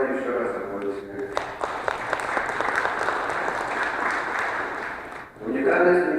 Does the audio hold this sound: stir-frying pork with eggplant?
no